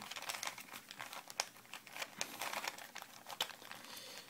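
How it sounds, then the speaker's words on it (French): Rubik's Cube being scrambled by hand, a close run of quick plastic clicks and rattling twists with no talk. "je vais mélanger le Rubik's Cube"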